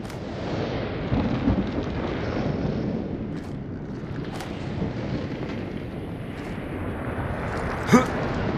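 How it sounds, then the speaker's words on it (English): Surge storm thunder in a video game rolls as a low, continuous rumble throughout, with a sharper crack near the end and faint speech-like sounds in the mix. "There it is, the surge storm."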